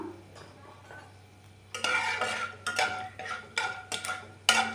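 Mustard seeds and chana dal tossed and fried in a pan, heard as a quiet low hum that gives way to repeated scraping stirs and sizzling bursts, close and fairly loud, with no talking.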